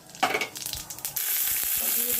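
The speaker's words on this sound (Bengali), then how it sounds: "এখানে তেল গরম বসিয়ে দিয়েছি, দিয়ে দেবো জিরে, গরম মশলা," Cumin seeds and garam masala hit hot oil for a home-cooked chana dal, giving a loud, steady sizzle that bursts in after a few stirring clatters and holds strong to the end.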